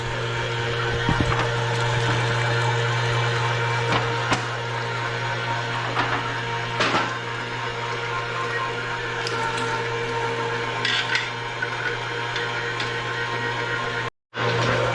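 Meat grinder forcing pork belly through its smallest plate for German sausages, a steady close motor hum with faint grinding and occasional knocks, running alone until a brief cut near the end.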